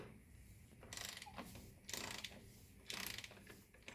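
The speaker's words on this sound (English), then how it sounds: "So getting these main fuel filters off is easy. You just use a 24mm socket up here." Socket wrench with a 24mm socket unscrewing the main fuel filter on a 1985 Mercedes 300TD, three close ratcheting bursts of rapid clicks separated by short pauses, faint and alone.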